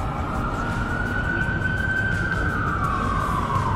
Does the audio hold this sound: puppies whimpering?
no